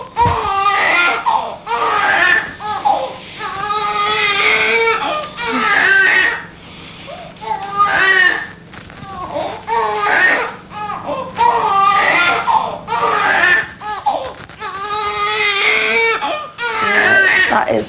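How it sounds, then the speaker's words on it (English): A baby cries loudly and close by in repeated wailing bursts separated by short gasping pauses, with a faint steady hum in the room behind the cries. "The baby cries."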